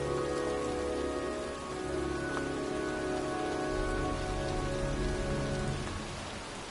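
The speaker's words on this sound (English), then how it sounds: "It's cold. It's raining." Steady rain pours down in an outdoor graveyard scene from the video game Heavy Rain, a dense continuous hiss of drops with low rumbling underneath, constant and enveloping throughout.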